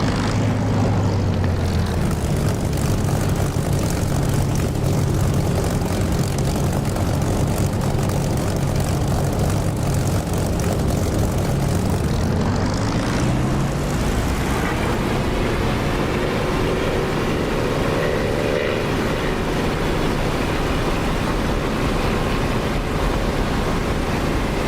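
A Spitfire's piston engine roars during takeoff in the DCS flight simulator, a loud, continuous propeller drone that holds steady and then climbs smoothly in pitch as power builds.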